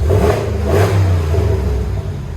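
A 2019 RAM 1500 pickup with a 5.7L HEMI V8 and a Flowmaster Super 10 exhaust revs hard nearby. The deep, loud, rumbling roar swells in a blip and then holds steady, with no talking over it.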